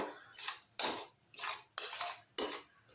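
A metal spoon stirs nutmeg, dry ginger and cardamom powder into a thick mango barfi mixture in a pan, giving five or six rhythmic scraping sweeps with short pauses between, close and fairly quiet.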